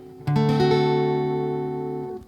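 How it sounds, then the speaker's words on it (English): A single D dominant 7 chord strummed once on guitar, ringing out clearly and slowly decaying over about two seconds. "that's a D dominant 7 chord"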